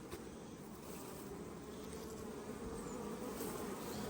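Steady droning buzz of many honey bees, a continuous hum holding a constant pitch throughout, fairly close and even in volume.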